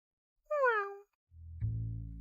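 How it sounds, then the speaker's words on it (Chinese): A wild cat in a prison cell of an animated fantasy series gives a single clear, close meow, followed by a low droning hum. "你这养的野猫"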